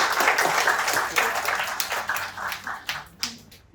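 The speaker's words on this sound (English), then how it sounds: "a big round of applause to the guests" An audience at a guest session applauds the guests, a burst of dense clapping that thins out into scattered individual claps near the end, fairly close and heard alone.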